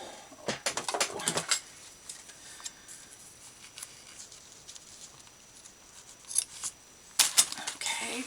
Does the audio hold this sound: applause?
no